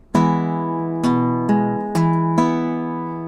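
A short fingerpicked guitar figure in pattern number 1, plucked notes ringing out in a syncopated pattern, clear and close with no voices.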